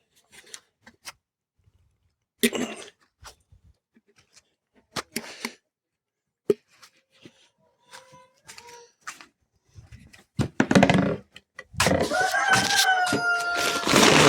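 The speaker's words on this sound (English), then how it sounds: "Let's go in and see the hens." Backyard hens stir in their coop. Scattered clicks, rustles and handling noises come first, then a close burst of clucking and squawking fills the last few seconds.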